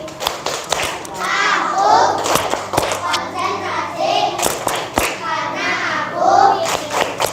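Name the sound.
children doing a rhythmic concentration clapping routine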